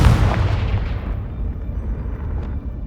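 A Confringo spell blast from the game Hogwarts Legacy erupts as a loud, deep boom at the start, then rolls into a rumbling, crackling tail that fades over a few seconds.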